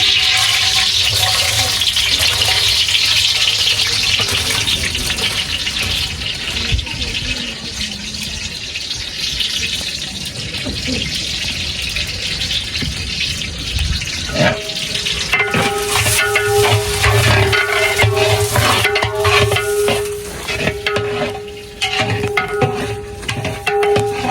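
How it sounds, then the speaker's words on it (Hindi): Onions dropped into hot oil in a large pot for a big village-style batch of chana pulao, giving a loud, continuous sizzle and hiss with occasional stirring scrapes and clatter throughout. "ऑयल गर्म हो चुका, तब इसके अंदर डालते प्याज।"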